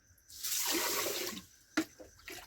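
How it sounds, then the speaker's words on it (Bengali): Rice grains being washed in water inside a cooking pot, a close swishing and sloshing swell lasting about a second, followed by a sharp splash and a few smaller drips and knocks. "এই যে হাড়িতে চাল দিলাম এবার জল দিয়ে ভালো করে কষলে কষলে ধোবো"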